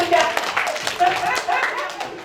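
An audience at a seminar in Surabaya claps for a group of women, brisk, close clapping mixed with a voice talking over it and a few light laughs.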